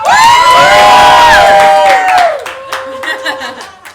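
A game show studio audience cheers and claps loudly, with shouts and whoops over a bright ringing tone for about two seconds before the applause thins into scattered claps and voices.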